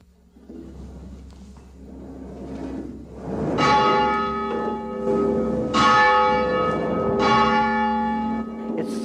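Cathedral bells in a bell tower ring the noon Angelus, three loud, resonant strikes about two seconds apart, each leaving a long humming decay that overlaps the next, rising out of a quiet, rumbling room.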